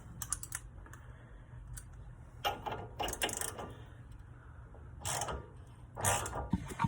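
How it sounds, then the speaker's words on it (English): A hand ratchet clicks while tightening a part on a Subaru STI during a Whiteline anti-lift kit install, sounding as quiet bursts of close, rapid clicking separated by short pauses. "take your handy dandy ratchet"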